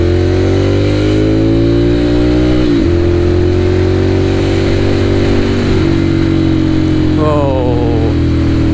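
A Ducati Monster 795 motorcycle engine on a test ride, with a loud steady drone that rises and falls through the gears and a brief rev near the end. The noise of rushing wind runs beneath it.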